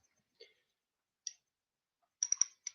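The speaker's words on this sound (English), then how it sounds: "you can hear the drag clicking" Drag clicking from an Obalus 2500 spinning reel: a few isolated soft ticks spaced apart, then a quick run of faint rapid clicks near the end, quiet and close with no talk.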